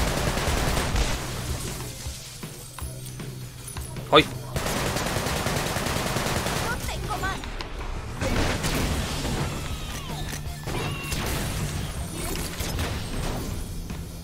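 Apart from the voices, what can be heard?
gunfire from Sunset Overdrive video game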